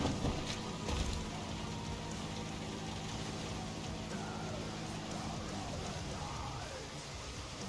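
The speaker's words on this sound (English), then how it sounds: "I've got rain all over the fucking place and I can hardly see." Steady video-game rain falls as a continuous hiss of drops throughout, fairly faint and even, with slight variation in texture and no voices.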